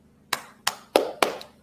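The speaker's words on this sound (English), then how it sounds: "here's me clapping to you" Four single hand claps ring out close and crisp at an even, unhurried pace, each a sharp slap with a short decay into near silence.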